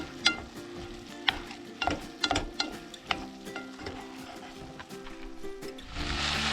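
A spoon scrapes and clinks in a pan, stirring fried rice with chickpeas, vegetables and soy sauce at an outback campsite. Irregular knocks sound over a steady low sizzle, close up, with no talk.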